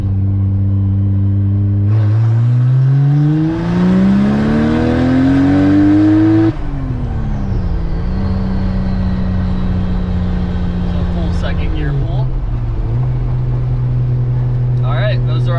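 A turbocharged Toyota Aristo accelerating hard through second gear, heard from inside: the engine note rises loudly, then drops at the gear change and settles into a steadier drone, with faint turbo whistle.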